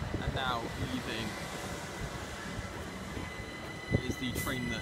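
A passenger train leaves Haywards Heath station bound for London Victoria, its steady rumble and rolling wheel noise filling the platform, with a brief squeal or clank near the end while someone talks over it.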